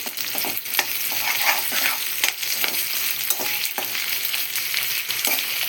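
Ginger paste fries with drumsticks in a pan, giving a steady close sizzle under repeated scraping strokes of a stirring spoon, with no voices.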